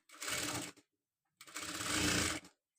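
A sewing machine stitches slowly around the round neckline of a designer blouse in two short bursts of whirring, rattling mechanism, close and clear, with a brief silent pause between runs.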